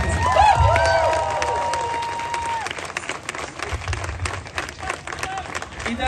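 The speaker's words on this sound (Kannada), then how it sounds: "ಜೋರಾದ ಚಪ್ಪಾಳೆ ಬರ್ತದೆ" Audience applause after a Kannada Rajyotsava skit, a dense wash of clapping that holds steady for several seconds. A faint voice and a ringing tone sit under it early on.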